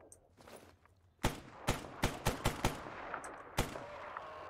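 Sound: gunfire in video game S.T.A.L.K.E.R. Anomaly

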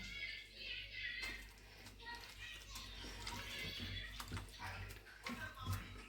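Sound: butter being washed in water

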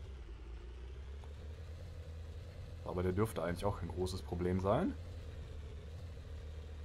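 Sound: tank engine straining, from a video game

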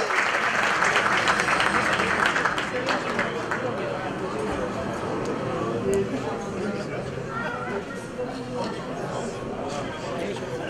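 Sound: audience applause for air gun champion Furkan Esat Özdin

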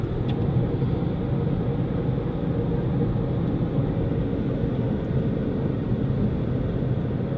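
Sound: car driving on fast track

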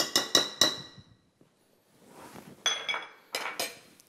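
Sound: mixing pasta with cheese in a pot

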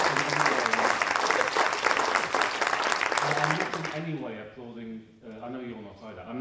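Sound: audience applause

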